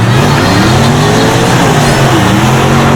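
Supercharged car putting out 2,300 horsepower accelerating hard in a roll race, with a loud, steady, roaring engine and a rising whine that fills the whole stretch.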